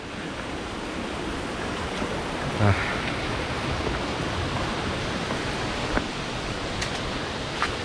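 Broadband roar of the Gitgit waterfall in Bali, a steady wash of falling water heard close and loud throughout, with a brief word spoken over it.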